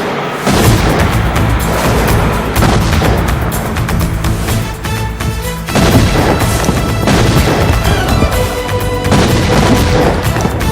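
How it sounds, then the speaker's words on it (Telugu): Bomb blasts in a mass action fight scene from a Telugu film, with repeated loud booming explosions and crashes that follow one another almost without pause, set against a dense, dramatic soundtrack. "బాంబులు ఆపుండ్రీ."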